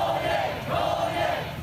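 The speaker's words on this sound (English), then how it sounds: "yesterday streams of demonstrators turned out in towns and cities across the country" A crowd of protesters demonstrating against military rule in a Myanmar town, a steady chanting roar of many voices heard at a distance with rising and falling shouts and no clear single speaker.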